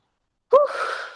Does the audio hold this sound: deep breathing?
yes